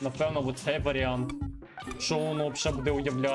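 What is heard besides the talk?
No everyday noises stand out.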